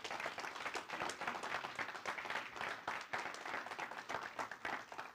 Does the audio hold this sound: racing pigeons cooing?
no